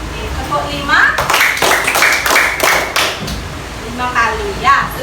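Schoolchildren in an elementary classroom clapping their hands in counted sets, a cluster of sharp claps in quick succession with children's voices and adult talk around them.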